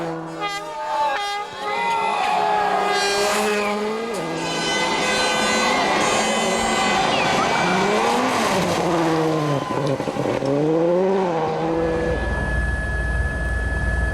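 A Ford Focus WRC rally car at the 2003 Neste Rally Finland, its engine note rising and falling loudly across a sequence of jumps, revving hard and then easing off toward the end.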